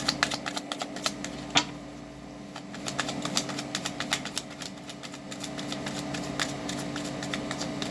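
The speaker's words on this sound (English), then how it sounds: "Why am I shuffling these?" Tarot cards are shuffled by hand in a rapid series of crisp riffling clicks and taps, fairly close, over a faint steady hum in the background.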